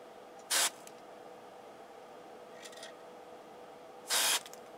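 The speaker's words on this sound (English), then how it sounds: "Let me spray this switch." Switch cleaner sprayed onto a switch of a Harman Kardon 330c receiver: two short, loud hissing spray bursts, roughly a second and four seconds in, with a faint brief hiss between, over a quiet background hum.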